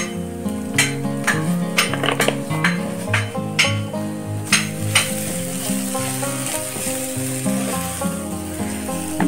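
Onion masala sizzles and fries in a pan for mushroom biryani, with a spoon scraping and clinking against the pan in quick strokes over the steady frying hiss, close up and without speech.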